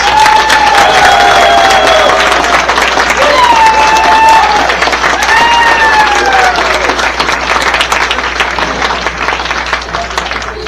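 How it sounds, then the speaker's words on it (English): An audience at a baseball hall of fame induction ceremony gives loud sustained applause throughout, with scattered cheers and whoops rising above the clapping before it slowly tapers. "Please give this group a round of applause."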